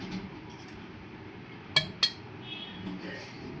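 A spoon clinks twice against a pot as turmeric and other spices go into Gujarati dal, two sharp metallic taps over a quiet kitchen background.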